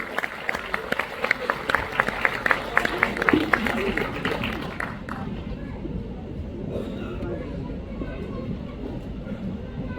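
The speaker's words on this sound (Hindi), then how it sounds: "एक बार सारा सदन जोरदार तालियां बजाए गोविंद राठी जी के लिए" Loud audience applause breaks out at a Hindi comic poetry gathering, dense rapid clapping for about five seconds before fading into quieter hall noise.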